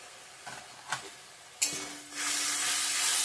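Ground turmeric, cumin, coriander and chili powder hit hot oil with a few stirring knocks, then break into a loud, steady sizzle close up.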